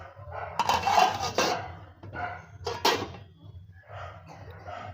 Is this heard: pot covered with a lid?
yes